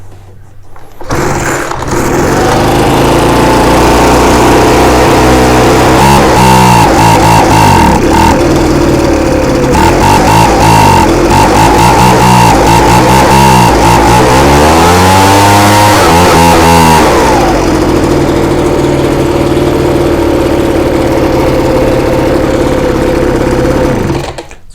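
A Ryobi BR42 backpack blower engine runs loud and close for around twenty seconds, its pitch rising and falling several times in the middle as the throttle is worked before it settles into a steady drone.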